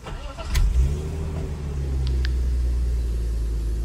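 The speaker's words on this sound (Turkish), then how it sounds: "Şimdi bir de motor sesini bir duyalım." A BMW E36 320 coupe with an M50B20 engine cranks, catches and settles into a steady idle, with a short burst of revving as it fires and a low even rumble after.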